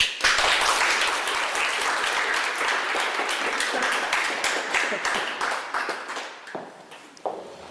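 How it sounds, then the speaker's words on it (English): An audience applauds psychotherapist Frank Farrelly as he is introduced, with crisp, dense clapping from many hands close by that thins out and tapers toward the end before a final few claps. "You don't know what you're clapping for."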